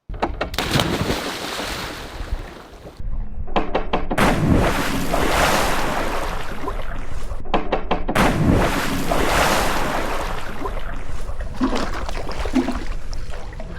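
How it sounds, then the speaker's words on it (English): Loud splashes and churning water as someone jumps into a freshly cleaned backyard swimming pool, a few bursts of turbulent surf-like noise separated by brief quieter moments. "The pool is clean. It's time for that splash."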